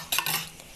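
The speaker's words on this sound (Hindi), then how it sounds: "ये 2 एग हैं, इसको फेंट लें।" A fork or whisk clinks quickly against a bowl, beating two eggs for egg bhurji in a home kitchen, a few brief close metallic taps with no talk.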